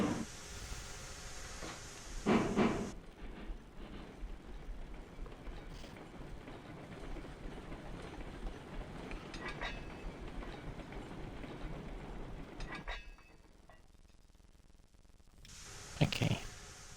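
A long train in Railroads Online rolls steadily along the track with a continuous rumble and rhythmic clickety-clack of the wheels, a brief clank near the start and a quieter stretch before the noise swells again at the end.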